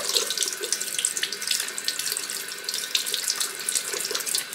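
Tap water pours steadily into a sink while a spa cover is rinsed and washed, a continuous close splashing hiss with small fluctuations and no talking.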